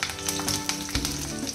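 A dried red chilli, tempering spices and four slit green chillies crackle and sizzle in hot oil, a close and steady frying hiss with small popping bursts throughout.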